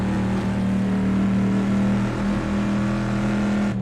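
A race car engine in a virtual RAC TT race at Goodwood drones steadily at high revs throughout, a constant loud buzzing hum with slight pitch wavers, no voices.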